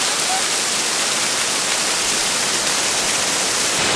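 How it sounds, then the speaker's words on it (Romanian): Steady broadband roar of the Banyumala Twin Waterfall in Munduk, Bali, in wet weather just after rain, loud and continuous without a break. "A doua cascadă vizitată în zona de Munduc se numește Baniumana Twin Waterfall."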